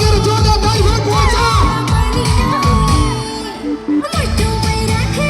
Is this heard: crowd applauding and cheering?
yes